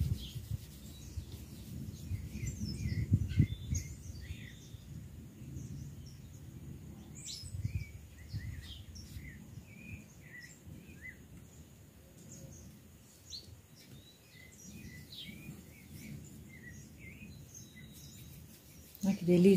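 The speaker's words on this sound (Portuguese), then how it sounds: "Que delícia o canto dos passarinhos." Countryside birdsong at a rural farmhouse, scattered chirps and tweets drifting from a distance over a low background murmur, with faint insect buzzing and no clear speech.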